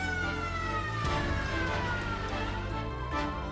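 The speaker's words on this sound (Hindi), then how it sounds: "सायरन की आवाज" A fire engine siren in Haryana, India wails with a slowly falling tone over loud, dense street traffic rumble.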